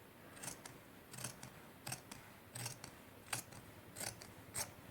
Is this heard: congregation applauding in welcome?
no